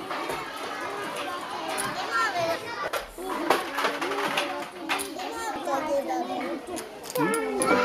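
Children playing in an open-plan kindergarten in Japan, with overlapping young voices shouting and chattering throughout, a busy mid-distance hubbub with brief louder bursts.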